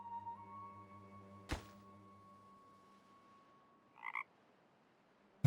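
A frog in the video game Land Grab croaks once, a short close burst against a quiet backdrop with a steady tone, preceded by a sharp thump and followed by another sudden knock at the end.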